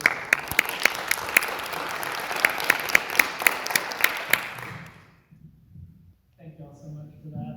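A crowd applauds with loud, rhythmic clapping for several seconds at a panel discussion, then it fades out and a voice begins speaking.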